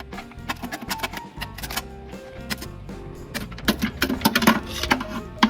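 A metal dowel wiggled inside a bolt hole on a 1967 Mustang while freeing the rear main seal, giving close, irregular metallic clicks and scraping rattles that come and go in short bursts.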